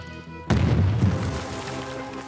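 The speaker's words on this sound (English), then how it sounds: "I like how the sound of the explosion was delayed a bit" A sudden deep boom from an explosion in the film Oppenheimer bursts in after a quiet moment, followed by a rumbling low roar that lingers and slowly fades, with a second thud shortly after.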